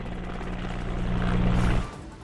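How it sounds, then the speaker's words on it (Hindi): A helicopter showers flowers over a hospital in Ahmedabad, its rotor throbbing loudly and close in a steady pulse before the noise drops away near the end. "अहमदाबाद में भी हॉस्पिटल पर हेलीकॉप्टर से बरसाए गए फूल"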